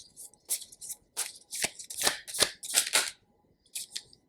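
Tarot cards being shuffled by hand, a series of quick riffling swishes and soft flutters in uneven bursts, close and fairly quiet with short pauses between, no voices.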